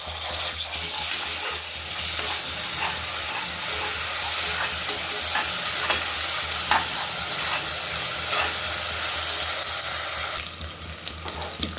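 Onions frying in a pan with salt and ginger-garlic paste give a loud, steady sizzle with stirring scrapes, continuous and close, with the hiss brightening near the end.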